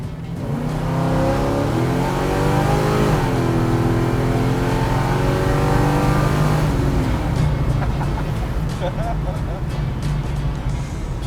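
A 400-horsepower 1972 Chevy Nova engine revs loud and close with a steady, rising roar, then settles into a rough, throbbing idle as voices talk over it.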